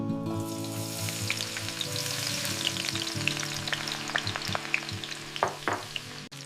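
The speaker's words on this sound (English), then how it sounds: "Frying the rest of the shallots." Shallots frying in a little oil for pumpkin pork porridge, with a steady, dense sizzle and crackle close up, broken by sharper pops and scraping stirs toward the end, with no talking.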